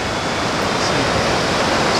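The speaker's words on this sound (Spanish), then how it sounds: "Aquí ya se ve la cascada." Corbata Blanca, an 85-metre waterfall along Ruta 40 in Argentina, gives a steady, even rushing roar of falling water that fills the whole two seconds with no voices.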